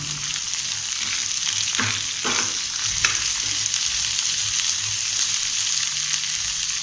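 Ingredients for a chilli kaara chutney fry in a pan until golden, a steady close hiss of sizzling oil with a few scraping stirs early on, continuous and fairly loud with no speech.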